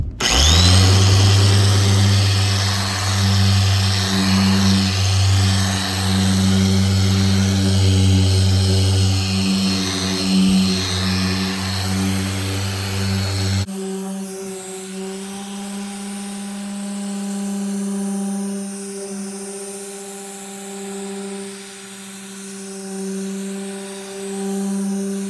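A handheld car polisher on speed setting 6 whirs loudly and steadily for about half the clip, then drops to a quieter, thinner drone with a lighter motor hum that continues to the end.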